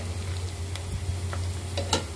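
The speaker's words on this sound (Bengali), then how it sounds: "পেঁয়াজটা ব্রাউন হতে একটু টাইম নেব।" Onions frying in a pan for beef biryani, a steady soft sizzle with a low hum beneath and a few light clinks of stirring, close and continuous, with no talk.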